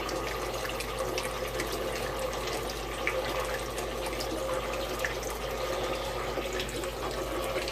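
Water drains from an aquaponics grow bed back down into the fish tank, giving a continuous gurgling, trickling wash at steady moderate level throughout.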